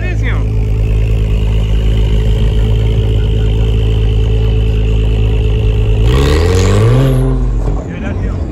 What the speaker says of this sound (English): Oh my God, the Acura NSX.